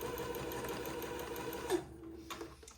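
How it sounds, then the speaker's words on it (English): A domestic sewing machine runs steadily and close by, stitching the second pass of a French seam on fine batiste for a dress, then stops briefly and restarts. "I'm going to sew the second pass of my French seam"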